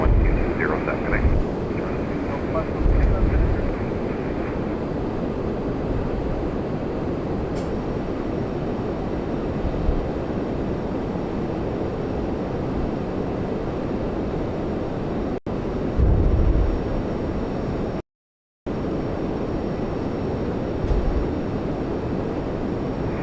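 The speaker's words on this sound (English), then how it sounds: "Here comes Air Canada 424 to Montreal" An Air Canada airliner takes off at Toronto Pearson on a flight to Montreal, its engines roaring loud and steady throughout, heard from a nearby hotel with people talking over it.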